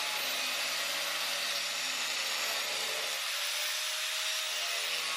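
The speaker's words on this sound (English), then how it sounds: "So just going to angle grinder again and see what we can get into." An angle grinder cuts into the shell of a worn PVC ram pump check valve, giving a loud, steady high-pitched whine with an abrasive grinding edge, running continuously without a break.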